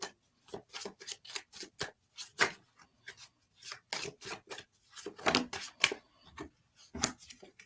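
Tarot cards are shuffled by hand, a rapid run of irregular riffles and soft flicks, close and crisp with short pauses between bursts.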